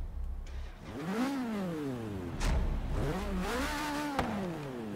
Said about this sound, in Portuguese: Um som de um motor bonito, né? Carro mais antigo, assim, preparado, tem um som bonito.